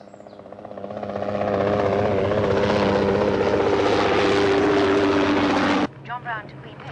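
A helicopter flies overhead, its rotor chop building to a loud, steady thudding roar and then cutting off sharply near the end. Muffled voices sit underneath.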